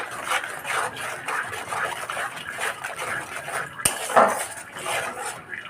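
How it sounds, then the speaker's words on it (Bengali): A spoon stirs salted, spiced masala sizzling in oil in a cooking pot, giving a steady run of metallic scrapes and clinks close by with no talk. "এবার ভালো করে নেড়ে চেড়ে"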